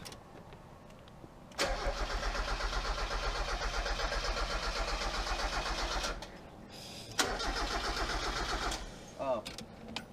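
A Mazda Miata engine cranks after a new fuel pump is fitted, with a steady loud starter whir running for several seconds and then a second shorter cranking burst after a brief pause.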